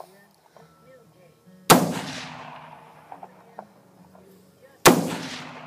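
Two loud, sharp gunshots from an AR-15 with a bull barrel fire a few seconds apart, each cracking close by and rolling into a long echoing decay outdoors, with faint voices and small sounds in between.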